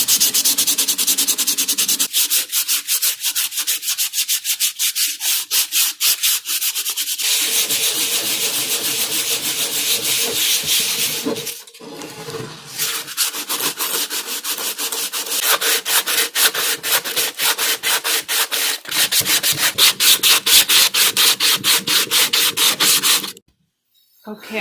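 Coarse 60-grit sandpaper rubbed hard over an old wooden bowl: fast, rhythmic, scratchy strokes, loud and close, continuing for over twenty seconds with one brief pause midway.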